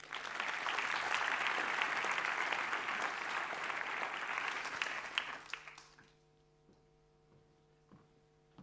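An audience applauds at a doctoral degree ceremony in Toulouse, with loud, sustained clapping for about five seconds that fades out and leaves a quiet hall with a low electrical hum.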